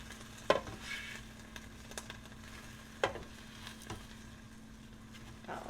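Chicken is turned over partway through cooking in an air fryer, with a steady low fan hum, a faint sizzle and a few sharp clicks and clatters of the basket and tongs, close by and with no voices.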